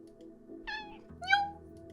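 A cat in the Kathy Rain 2 video game gives two close meows, the second louder and more drawn out, over a soft low background hum.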